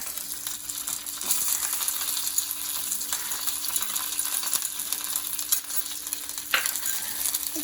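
Shrimp roast ingredients, curry leaves and crushed onion, frying in a clay pot: a steady close sizzle with occasional scraping stir clicks throughout, no talking.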